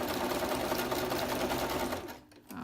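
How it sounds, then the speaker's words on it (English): A sewing machine stitches pockets into a handmade journal, running steadily and loudly for about two seconds before slowing and pausing briefly, then starting up again. "when I sew the pockets and all that"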